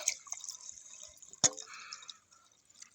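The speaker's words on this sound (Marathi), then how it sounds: "एक वाटी उडदाची डाळ घेतली बघा मी ती आता स्वच्छ पाण्याने धुवून घेते" Urad dal being rinsed in clean water: soft, close drips and small trickles, with one sharper splash midway, then quieter dripping.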